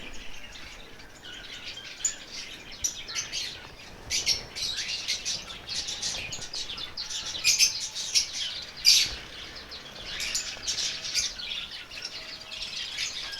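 Australian parrots in a breeding colony aviary chirp and tweet continuously, a busy layer of overlapping high calls with louder bursts now and then, steady and fairly near, with no talking.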